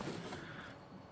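Sustained gunfire in the video game The Outer Worlds, a dense continuous roar of shots that fills the whole moment at steady loudness with no voices.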